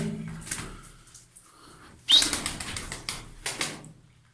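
Tumbler pigeons coo softly and then burst into loud wing flapping several times, close by, with short bursts of fluttering separated by brief pauses and no speech.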